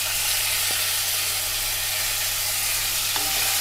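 Mustard seeds, onion, chili and curry leaves sizzle hard in hot oil in a pan for banana flower poriyal, a loud, steady, close frying hiss with a faint low hum and no voices.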